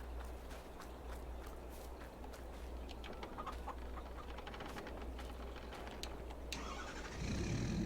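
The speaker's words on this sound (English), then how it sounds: "Gonna go ahead and grab my truck, drive that down with the stones for lime" A truck drives in Farming Simulator 22 as a low, steady engine drone, faint and constant. Scattered chicken clucks and bird chirps sit over the engine.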